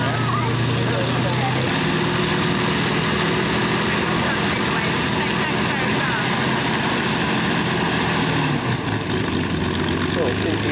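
Aircraft engines droning loudly and continuously at the 2004 Chailey airshow, a steady propeller-like hum with shifting tones, while people talk over it.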